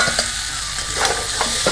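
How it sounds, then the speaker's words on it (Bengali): Fried eggplant tipped into spiced potatoes in a hot pan for aloo baingan, a steady sizzle with a few quick spatula scrapes and stirs, close and distinct without any voices. "এবার বেগুন দিয়ে দেবো ভেজে রাখা,"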